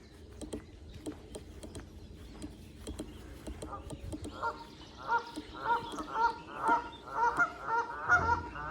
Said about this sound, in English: Geese starting up again.